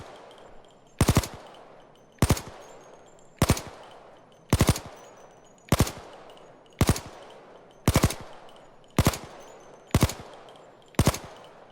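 Ten evenly spaced loud gunshots from an HK MP5 Compact submachine gun in the Payday 2 video game, each a sharp crack with a brief tail, about one per second, with no speech.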